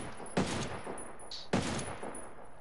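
Gunfire in the video game Ghost Recon, two sharp bursts of automatic shots about a second apart, loud and close, each trailing off into a rattling echo with no talk over it.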